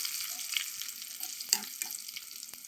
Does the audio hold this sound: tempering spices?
yes